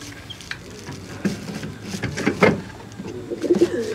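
Desi pigeons coo softly in a home loft where a female sits on eggs, with low repeated calls rising and falling, close by, over light rustling and background noise.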